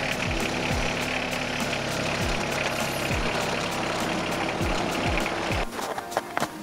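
A backhoe engine runs steadily while it winches a stuck vehicle out with a line anchored to a tree in winter, a loud continuous rumble with periodic clanks before it drops off near the end.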